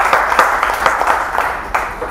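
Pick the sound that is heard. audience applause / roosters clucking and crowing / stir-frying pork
audience applause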